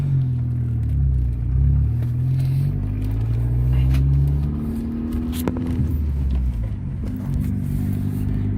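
A VW B5 Passat pulling away in first gear, its engine rumbling close and loud with rising and falling tones as it accelerates, then settling into a steadier drone.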